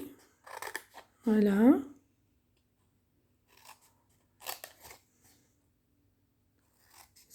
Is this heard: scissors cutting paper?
yes